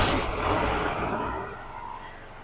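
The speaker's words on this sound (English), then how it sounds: "once I start it, I bring my RPMs up a little bit to help it run and get any air out" A steady, loud first-generation 12-valve Cummins diesel truck engine rumble holds at a raised, even RPM throughout, with broad low-end roar and mechanical hiss.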